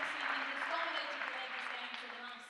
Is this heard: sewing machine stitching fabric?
no